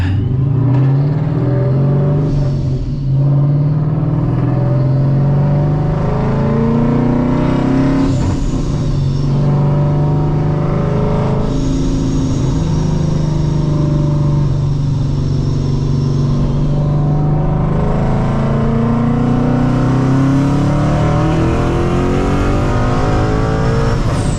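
A car engine revs and roars continuously, pitch climbing and falling through gear changes, loud and close throughout.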